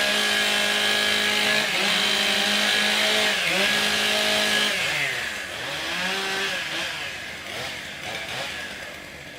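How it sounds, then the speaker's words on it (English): Chainsaws revving and idling at a timbersports competition, engines loud and close with rising and falling pitch sweeps as the saws are warmed up, continuous throughout with a crowd-like background. "Warm up your saws."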